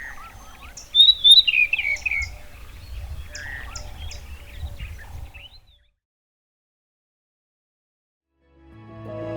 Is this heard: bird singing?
yes